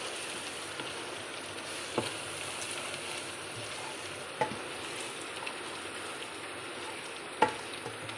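Mutton and rice fry together in a pot for pulao with a faint, steady sizzle, broken by a few soft clinks or stirring knocks.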